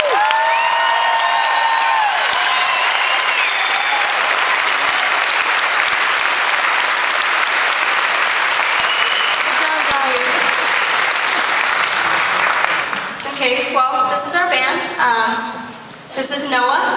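A concert audience applauding and cheering for music instructors, sustained loud clapping with whoops and shouts, a voice heard over the start, then the applause thinning as a speaker takes over near the end.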